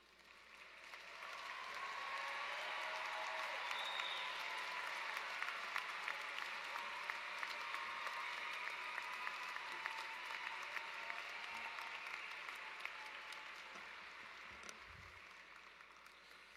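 Sustained applause from a crowd at a graduation ceremony for the class of 2024 swells in over the first two seconds, holds steady and dense, then tapers slightly near the end.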